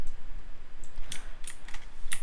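Keys on a computer keyboard clack in a few quick, scattered bursts, close and fairly crisp over a low steady hum, with no voices.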